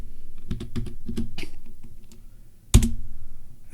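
Password typed on a computer keyboard: a quick burst of individual key clicks, then a short pause and a single louder keystroke, close and distinct, with no talking.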